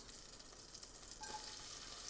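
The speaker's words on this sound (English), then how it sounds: "sizzling shallots and butter" Shallots hit melting butter in a pan and give a soft, steady sizzle with a faint stir partway through. The sound is quiet and close, with no speech.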